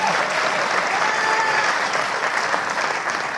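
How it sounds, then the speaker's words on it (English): A studio audience applauds a guest on a late-night show, a steady, dense clapping that fills the space at even loudness throughout with no talk over it. "give him a round of applause"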